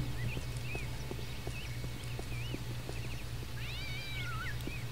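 Cat meowing in the video game Postal 2, several rising and falling meows scattered over a steady low hum, with faint clip-clop-like taps in the background.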